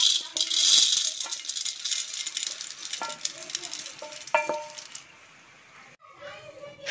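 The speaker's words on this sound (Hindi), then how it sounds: "और इसमें ही फूले चने को भी भून लेंगे।" Puffed chickpeas roasting and rattling in a dry pan during peanut laddoo preparation, a loud sizzling hiss with scattered clicking and stirring rattles that quiet down toward the end.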